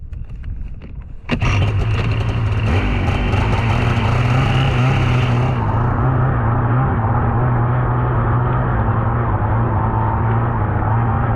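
A snowmobile engine on a snowy slope starts with a sudden loud roar after a quieter opening and holds a steady, close, droning rumble, its high whine fading partway through. No speech.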